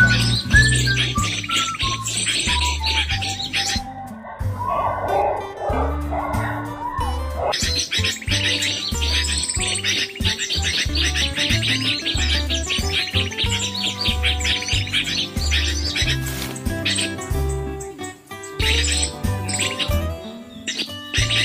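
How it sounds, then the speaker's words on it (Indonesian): Recorded bird calls play continuously as a lure for trapping birds, a dense and loud stream of repeated chirps, whistles and trills that shifts pattern partway through, with no talking. "Pohon pulut dan menggunakan suara burung kilang ribut sudah ready."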